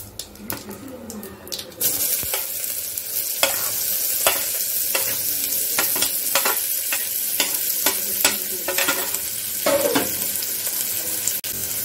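Cumin seeds, bay leaves and onion sizzle and fry in a pot, with a steady frying hiss under repeated clinks and scrapes of a stirring spoon, close and fairly loud throughout.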